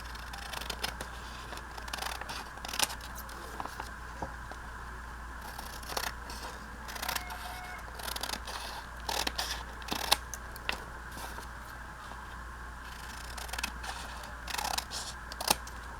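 Scissors cut paper for a steampunk journal page, making a steady series of soft, close snips and rustles over a low background hum.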